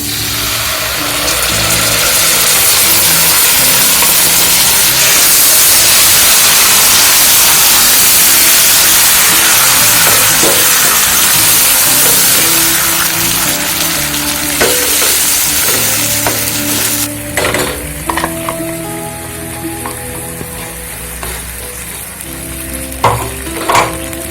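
Tomato puree fries loudly in a hot pan, a dense roaring sizzle that fills the first two-thirds, then settles into a softer bubbling crackle broken by scraping and clinking stirring strokes.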